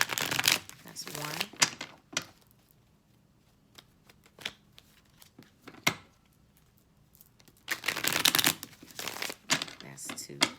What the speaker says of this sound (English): I'm going to do 3 shuffles, and then we're going to go into your reading